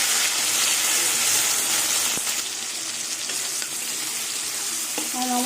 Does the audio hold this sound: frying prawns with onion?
yes